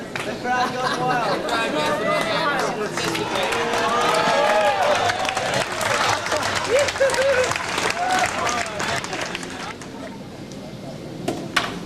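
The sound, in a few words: crowd cheering and applauding at 1986 Vancouver skateboard contest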